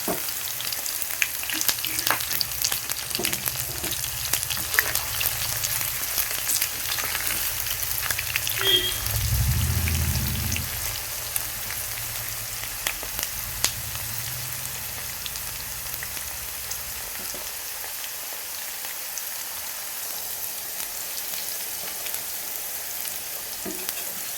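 Okra 65 fries in an oil-filled pan, giving a continuous crackling sizzle with stirring scrapes and a brief louder rumble partway through. The sizzle eases to a softer frying hiss toward the end, and nobody speaks.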